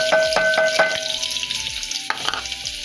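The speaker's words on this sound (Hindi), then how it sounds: "अब लहसुन डाल दूंगी मैं इसमें।" Garlic dropped into hot oil already holding cumin, bay leaf and asafoetida for dal makhani, giving a busy sizzle with a few stirring clanks and thin tonal ringing, no talking.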